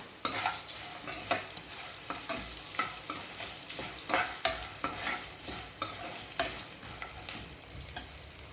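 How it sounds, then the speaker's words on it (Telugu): Broken dried red chillies frying in hot oil for lemon rice, a bright continuous sizzle punctuated by regular spoon scrapes against the pan, close and clear with no voices. "రెండు ఎండుమిరపకాయలు తుంచుకుని వేసుకుంటున్నాను"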